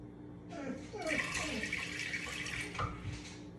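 Water is poured into a mixing bowl while oatmeal cookie dough is being prepared, making a short splashing trickle for a few seconds at close range.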